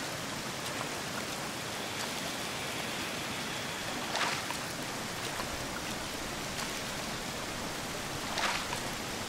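Steady rushing water noise while washing up in the Green Hell survival video game, a continuous splashy wash with a couple of brief louder swishes partway through.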